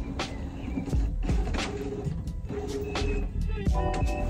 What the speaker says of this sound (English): Someone keeps trying to print from my Wi-Fi printer.